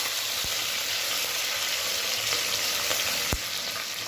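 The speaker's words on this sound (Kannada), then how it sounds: "ಬೀನ್ಸು, ಹಸಿಮೆಣಸಿನ್ಕಾಯಿ, ಸ್ವಲ್ಪ ಕೊತ್ತಂಬರಿ ಹಾಕಿ ಇದನ್ನು ಫ್ರೈ ಮಾಡ್ಕೊಳ್ಳೋಣಂತೆ." Beans, green chillies, curry leaves and a little coriander fry in a pan with a loud, steady, close hiss and a couple of sharp utensil knocks, no talking.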